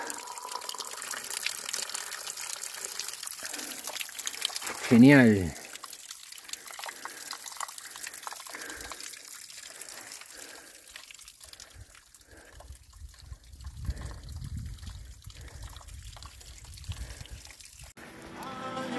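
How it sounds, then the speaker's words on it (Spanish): A thin trickle of alkaline spring water runs into a container on a cloudy mountain trail, a faint steady splash under wind noise, with a brief spoken word partway through. "a cargar agua que encontramos este chorrito acá de agua alcalina."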